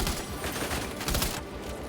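Rapid bursts of gunfire in the video game Death Stranding 2, a dense sustained volley that cuts off near the end.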